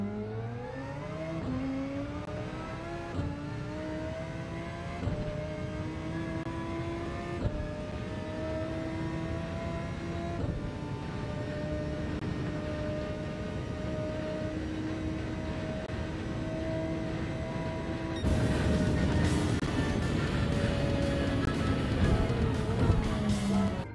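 Race car engine in Gran Turismo 7 droning steadily at high revs, pitch stepping and sliding as gears change during braking into first, a harsher louder burst near the end, continuous and close with no talk.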